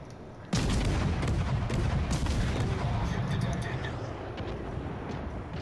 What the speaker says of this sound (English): Trying to shoot this battleship.